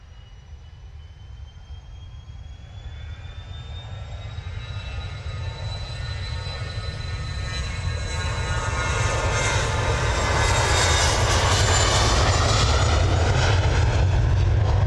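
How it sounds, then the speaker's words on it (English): A private jet taking off at Manchester Airport, its engine roar building steadily from a distant rumble to a loud, sustained blast with a rising whine, no voices. "we have a posh jet off to Napoli's"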